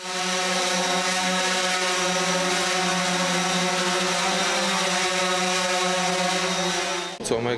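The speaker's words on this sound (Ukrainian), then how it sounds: "які є на стіні, літає квадрокоптер." A steady, droning buzz of a quadcopter drone holds at an even level for several seconds, then cuts off abruptly near the end.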